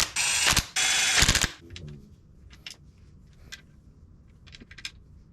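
A ratchet turns oil pan bolts by hand on a B18B1 engine block, with two loud bursts of rapid ratcheting up front followed by scattered faint clicks in a quiet workshop.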